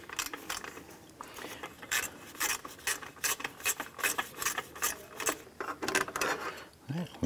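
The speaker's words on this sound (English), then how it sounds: "We wanna go ahead and remove our 10 millimeter bolt right underneath here." Ratchet wrench working a 10 mm bolt under a radiator bracket and expansion tank on a 2004-2008 Acura TL, giving irregular bursts of close clicking with brief pauses between strokes.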